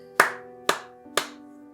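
Three sharp separate claps about half a second apart, loud and close, each ringing briefly over a steady tonal background hum.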